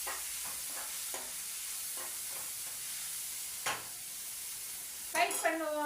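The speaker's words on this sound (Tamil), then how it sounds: "தக்காளி வதங்கட்டும், அது வரையும் நம்ம வெயிட் பண்ணி பார்ப்போம்" Tomatoes sautéing in a pan on a home stove, a steady soft sizzle with light stirring scrapes and a louder spattering burst near the end.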